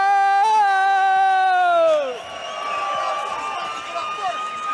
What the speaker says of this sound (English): The crowd going wild for Michael Imperato here.